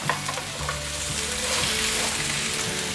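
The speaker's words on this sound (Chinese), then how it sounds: "豆干、马铃薯，快速翻炒。" Potatoes and dried tofu stir-fried in a hot wok for a vegan home dish, a steady oily sizzle broken by the scrape and clatter of a spatula tossing the pieces, close and continuous with no voices.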